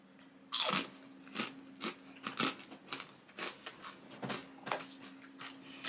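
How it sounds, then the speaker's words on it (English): Crunchy food, seasoned with red pepper, is chewed right against the microphone, a loud, irregular series of close crackling bites and crunches with a faint steady hum beneath. "let me chew right next to the microphone"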